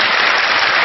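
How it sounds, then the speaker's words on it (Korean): Studio audience applause welcoming a guest's husband onto a Korean lecture show, a dense, steady wash of clapping filling the whole moment with no break. "여러분 박수로 좀 환영을 해주십시오"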